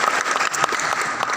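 Audience clapping hands at a KMHDI national coordination meeting in Palangka Raya, a dense, steady burst of applause from a crowd filling the whole moment, close and fairly loud.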